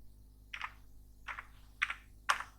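Four separate bursts of keyboard clicking come at roughly even intervals, close and crisp, as text is typed on a computer keyboard in a quiet room with a faint low hum.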